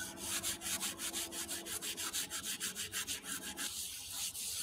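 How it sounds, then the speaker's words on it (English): Raku pottery being scrubbed with sand to remove soot, a rapid, rhythmic rasping scrub of quick strokes that is close and fairly loud, then easing off near the end. "If it is difficult to remove the soot, we use some sand and start scrubbing."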